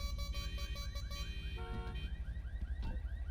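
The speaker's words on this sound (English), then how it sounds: "Setting off all the frickin' car alarms." Car alarms blare in a GTA video game, a repeating electronic siren pattern of rapid chirps and warbling tones cycling loudly and continuously with no talk over it.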